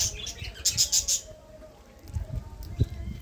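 Birds in a home bird colony of clay nesting pots chirp in a short cluster of bright, close calls, followed by quieter rustling and low murmurs.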